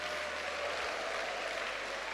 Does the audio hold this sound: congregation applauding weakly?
yes